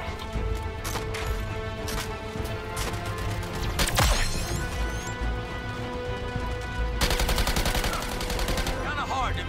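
Gunfire in the video game Suicide Squad: Kill the Justice League, rapid loud automatic bursts nearly continuous with impact crashes and a heavier volley near the end, over busy game ambience.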